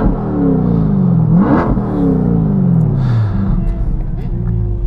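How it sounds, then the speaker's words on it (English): A Chevrolet C8 Corvette's exhaust at a race track, loud and close, its engine note sweeping down and then climbing again as it revs. "Let's hear some exhaust notes while we're at it of the C8 Corvette."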